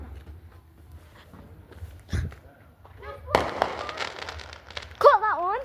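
Bonfire night fireworks go off outdoors with scattered pops and a sharp burst, then a longer crackling cluster of bangs, while people talk and shout nearby.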